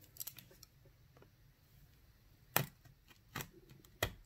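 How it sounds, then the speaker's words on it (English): Packing tape on a cardboard box holding baseball trading cards is sliced by a blade: a few sharp, close cutting strokes with short pauses between them, heard alone in a quiet room. "So, I gotta cut the tape here."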